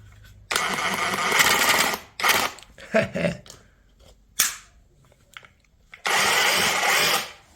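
A Parkside PKHAP 20-Li D4 cordless hammer drill in rotation mode whirs in several bursts, starting and stopping, with a long run at the start and again near the end.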